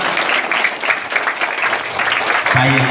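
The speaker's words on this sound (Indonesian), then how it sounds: "Tepuklah tangan tu bapak." An audience at an Islamic sermon (ceramah) claps in a burst of close, busy applause, and a voice comes in over the clapping near the end.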